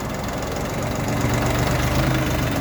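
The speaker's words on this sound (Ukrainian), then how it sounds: "Джинма 244 з кабіною з реверсом, кабіна з опаленням" A Jinma 244 tractor with a 24-horsepower KM385 diesel engine, fitted with a heated cab and reverser, idles close by, giving a steady low throbbing knock that runs continuously with no voices.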